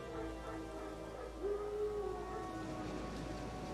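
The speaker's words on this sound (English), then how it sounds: "Wolves? No. Wild dogs." Wild dogs howl in The Witcher 3, one drawn-out howl rising briefly over a steady wash of rain and ambient game sound, fairly faint and distant, with no talk.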